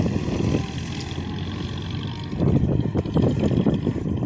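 A T-40 tractor engine throttled to full power while hay is being raked, a loud low rumbling drone that swells and turns rougher about halfway through.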